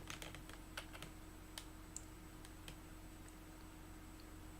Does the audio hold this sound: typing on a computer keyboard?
yes